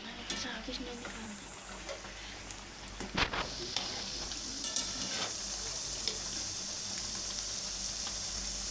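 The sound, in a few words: wheat flour biscuits frying in pan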